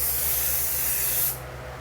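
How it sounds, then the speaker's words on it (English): Mudforce Mudlove cleaner sprayed in a steady, close hiss onto a 2020 CF Moto CForce 600 ATV, one continuous burst lasting over a second that cuts off abruptly, leaving a low background hum. "and you can just spray this thing down."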